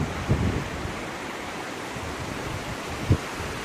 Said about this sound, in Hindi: मन कर रहा है यहीं बैठा रहूं या आवाज़ सुनता रहूं नदी की